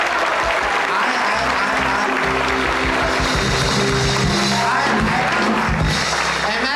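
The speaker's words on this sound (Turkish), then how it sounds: "Çocuklar ya doğru dürüst alkışlayın ya hiç alkışlamayın." A theatre audience at a 1994 stage comedy show applauds steadily and loudly, the clapping running throughout over low, sustained background music.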